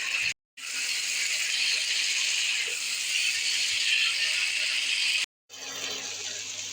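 Water pours steadily into a pan of spiced Bengali fish curry with drumsticks, a continuous hissing gush broken by two short silences.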